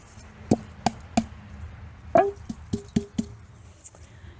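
Food scraps and coffee grounds are dumped into a worm compost bin in a run of wet plops and thuds, about eight distinct hits at close range, with no talk.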